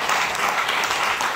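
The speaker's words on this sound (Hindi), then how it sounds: "एक ताली में बजाना चाहूंगा विकासा औरंगाबाद वालों के लिए" An audience applauds at a student motivational talk in Aurangabad, a steady wash of clapping sustained throughout the short span with no speech over it.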